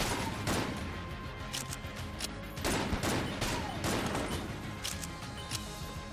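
Rapid gunfire rattles from a weapon in the video game Enter The Gungeon, a steady barrage of bright shots and bursts continuing throughout under game sound effects.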